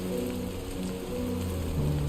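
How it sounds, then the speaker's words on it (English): Steady rainfall patters across the ground in Death Stranding 2, an even wash of drops over a low background hum, with no voices present. "Oh, it's raining."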